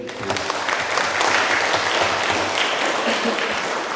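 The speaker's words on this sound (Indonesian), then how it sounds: "kita tepuk tangan sekali lagi untuk Bernard dan Mary" Guests clap steadily at a wedding celebration, a dense, sustained round of applause lasting several seconds with no speech over it.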